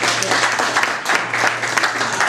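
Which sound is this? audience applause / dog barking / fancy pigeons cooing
audience applause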